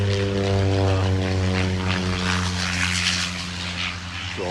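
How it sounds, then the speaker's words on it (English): A propeller airplane flies in overhead during Golden Week in Tokyo, its steady droning engine hum loud and continuous, easing slightly as it passes, with no talking. "Oh, another plane coming in."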